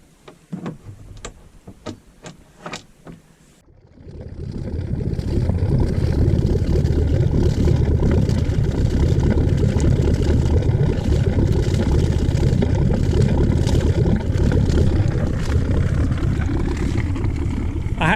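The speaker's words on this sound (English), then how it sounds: "that's one of my favourite things about the Freeman is the lovely gurgle of that engine" A Freeman 23 cruiser's inboard engine idles with a steady low, throbbing gurgle that starts abruptly after a few sharp knocks and runs continuously, close and fairly loud.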